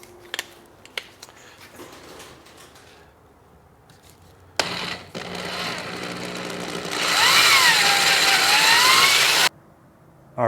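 A loud, steady power drill whirs for several seconds, its pitch rising as it bites, after some quieter handling noises and clicks.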